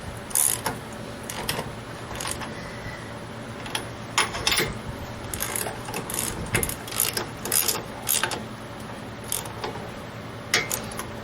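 Bolts on the brake caliper of a rotten old 1956 chop-top oval-window VW Beetle are tightened with a ratchet, giving bursts of close, crisp clicking with short pauses, and no talk.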